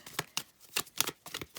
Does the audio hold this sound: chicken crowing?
no